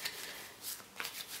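Psi divination cards are shuffled by hand, giving quiet, soft riffling and rubbing bursts over a second and a half, close up and without speech.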